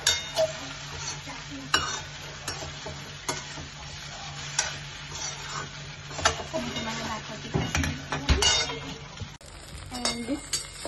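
Idli being fried in a pan, with a constant low sizzle under frequent sharp scrapes and taps of a utensil against the pan, close up.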